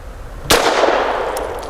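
A Grand Power LP380 pistol shot rings off a steel target: one sharp, loud crack and clang at close range, trailing into a metallic ring, with a faint second ping near the end.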